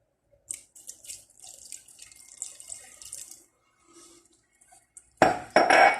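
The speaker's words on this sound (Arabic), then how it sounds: "كنخوي الماء،" Water is poured into a mixing bowl of dough for savory fekkas made with butter and yeast. Faint clinks and soft kitchen handling come first, then a loud, close splashing pour bursts in near the end.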